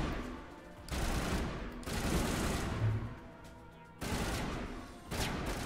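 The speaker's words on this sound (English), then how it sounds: "that's a really delayed explosion" Bursts of gunfire-like blasts and a delayed grenade explosion in the Mass Effect 1 Legendary Edition video game, several loud noisy bursts separated by brief lulls, with no talk.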